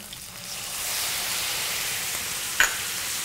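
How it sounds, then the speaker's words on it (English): Crab meat and garlic are stirred in a hot pan, giving a steady close sizzle and frying hiss with a faint scrape of the spoon near the end. "We'll stir that around a little bit"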